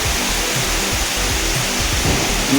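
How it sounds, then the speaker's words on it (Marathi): Torrential, heavy monsoon rain pours down in a dense, steady roar that fills the whole span, loud and close with no pauses and no voices. "आवाज बघा पावसाचा"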